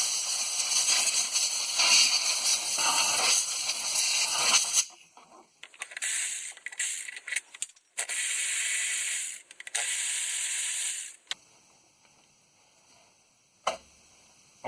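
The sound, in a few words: air blower blowing dirt off engine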